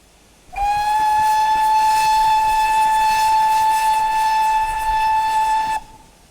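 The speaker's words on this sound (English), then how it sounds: "So I'm guessing that shift and space is the short burst whistles." A GWR 9400 pannier tank locomotive in Train Simulator sounds its steam whistle in one long, loud, steady blast lasting about five seconds, starting and stopping abruptly.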